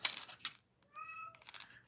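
A house cat lets out a single clear, drawn-out meow close by in a quiet room, framed by soft rustling of crafting work just before and after.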